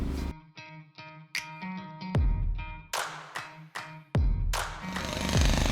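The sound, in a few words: breaking a large construction block buried in the ground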